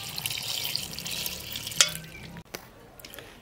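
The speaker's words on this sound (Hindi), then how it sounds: "दाल में 1 लीटर पानी डाल देंगे।" Water runs steadily into lentil dal in a cooking pot for spinach dal, a soft pouring and splashing close by that stops partway through, followed by a faint knock.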